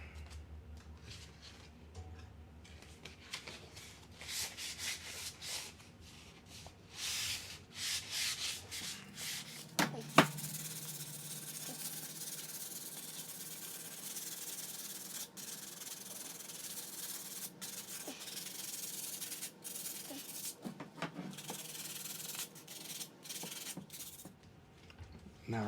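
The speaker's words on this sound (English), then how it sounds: "We're going to do some sanding now" Steady rhythmic rubbing of 220-grit sandpaper on a wooden guitar headstock, close by, in repeated back-and-forth strokes with brief pauses.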